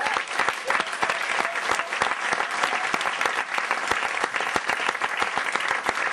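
Dense, sustained audience applause with some cheering at a slam poetry evening celebrating Univers Slam, loud and continuous throughout with rapid overlapping claps.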